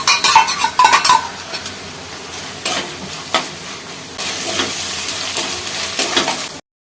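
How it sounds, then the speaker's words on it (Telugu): Fried onions go into a pan of biryani and get stirred, with scraping and clinking of a metal spoon against the pot over a soft sizzle, in a few uneven bursts. "ఆనియన్స్ బిర్యానీ కోసం కొన్ని మగ్గించుకున్నాం కదా, ఆనియన్స్ వేస్తున్నాం."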